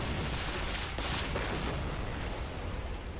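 Cannon fire in an Army Men winter field battle, a dense, continuous barrage of loud booms and blasts blending into a sustained, noisy rumble.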